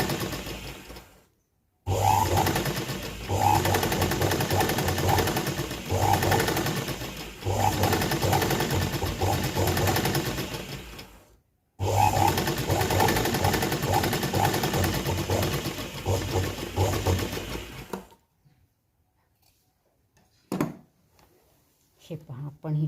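A sewing machine runs in long, steady bursts while stitching piping into a folded seam, with short pauses between bursts, then falls quiet as a person begins speaking near the end.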